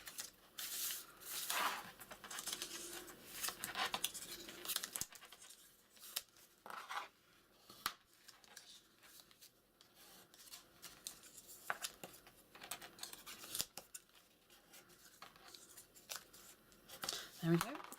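Scissors snip and cut through paper in scattered bursts, with paper rustling and a person talking quietly over the work.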